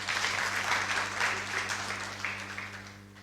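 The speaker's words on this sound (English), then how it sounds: "Hand clap for President Ruto." An audience at a talk applauds the Kenyan president with a steady, moderate wash of clapping that gradually thins out and fades near the end, over a low electrical hum.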